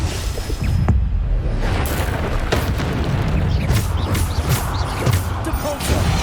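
Bombarda blasting spell from Hogwarts Legacy: a heavy boom followed by a rumbling, crackling burst of debris that carries on for several seconds amid game effects.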